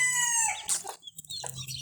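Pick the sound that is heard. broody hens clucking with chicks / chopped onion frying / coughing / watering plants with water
broody hens clucking with chicks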